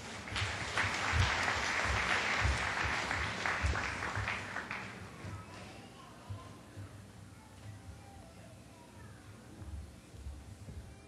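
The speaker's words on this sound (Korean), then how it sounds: "큰 박수로 맞아주시기 바랍니다" Graduation audience at a cyber university degree ceremony applauds as the university president comes up to speak, loud dense clapping for about five seconds that fades to a quieter room with scattered sounds.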